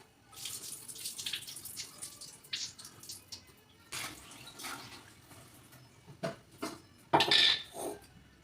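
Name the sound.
washing dishes and pots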